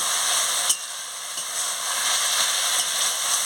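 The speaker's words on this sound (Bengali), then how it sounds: "ওল ডাঁটাগুলোকে মশলার সঙ্গে দিয়ে কেমন কষাচ্ছি" Elephant foot yam stalks being stir-fried with spices for a Bengali chorchori give a steady, close sizzle with soft scraping of stirring throughout, one sharper clack near the start, and no talking.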